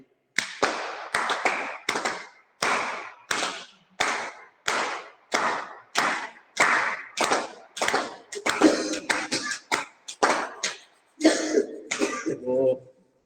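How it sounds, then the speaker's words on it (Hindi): A group of yoga session participants clap their hands together in steady, evenly spaced bursts, about a dozen sharp rounds of applause-like claps, loud and close, with no talking. "बजाएंगे ताली खुद से"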